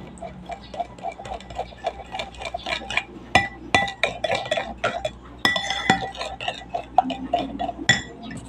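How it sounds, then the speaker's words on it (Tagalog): A spoon stirs mango float cream mixture in a bowl, giving a steady run of light ticks and clinks against the sides with scraping between them. The sounds are close and moderately loud, with no voices. "paghaluin nyo lang itong mabuti"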